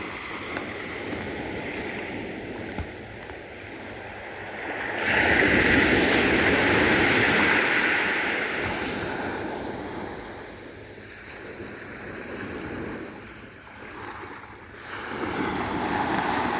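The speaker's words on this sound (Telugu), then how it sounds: "నైట్కి చూడండి సముద్రం ఎట్టున్నది" Ocean surf on Sur Beach in Oman at night, a steady wash of waves with a louder surge rolling in around the middle, mixed with wind noise on the microphone and no talk.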